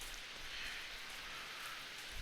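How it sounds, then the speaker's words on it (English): Video game rain falling, a soft steady hiss of rainfall heard faintly and alone without any talk. "the rain started to fall"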